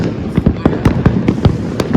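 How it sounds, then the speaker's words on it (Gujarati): Rapid series of sharp Diwali firecracker bursts, popping irregularly several times a second, loud and close, with a faint voice in the background. "હજી તો ભાવનગરમાં ફટાકડા ફૂટે છે જો"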